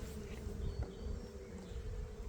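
Honey bees hum around an open hive during a spring mite check, a steady, fairly soft buzzing drone with a few louder passes close by.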